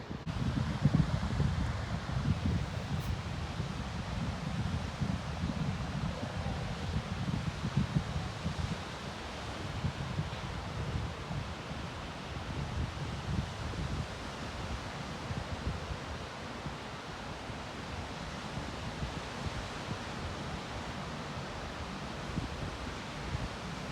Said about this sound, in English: I know there's some wind here.